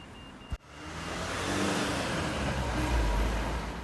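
Car engines in city traffic rumble as a continuous low roadway drone, preceded by a brief sharp knock near the start, with the noise swelling slightly later on.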